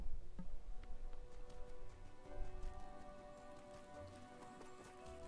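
Steady patter of rain on a winter beach in the game Wylde Flowers, a soft continuous hiss with scattered drops and low background game music, no talking.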